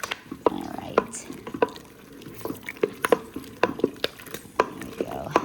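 Cranberries boiling in a pot on a stove give off scattered pops and bubbling while a spoon scrapes and knocks against the pot in an irregular rhythm, close and moderately loud, with a voice speaking over it.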